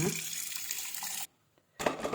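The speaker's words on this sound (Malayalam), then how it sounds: "നമുക്ക് കുറച്ച് വെള്ളം ഒഴിച്ച് കൊടുക്കാം" Water pours into a pot of washed taro and tapioca, a close splashing gush that stops for a moment and then resumes briefly.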